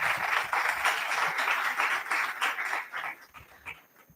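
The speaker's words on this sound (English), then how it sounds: "May I ask the audience for another round of applause" Applause from a convocation audience, a dense crackle of many hands clapping that holds steady for a few seconds and then gradually thins and fades near the end.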